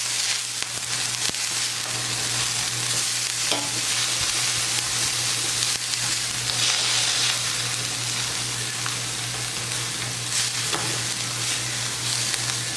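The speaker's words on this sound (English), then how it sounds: "we're just going to let this cook for a little bit and let our veggies boil down" Vegetables for Puerto Rican paella cooking in a pan on a stovetop at medium heat, a continuous dense bubbling sizzle that holds steady over a low hum, close and fairly loud with no talk.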